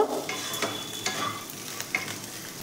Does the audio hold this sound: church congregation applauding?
no